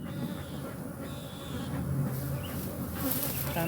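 Agitated honeybees swarm around a hive in a dense, continuous buzz, loud and close, with individual bees droning past the listener.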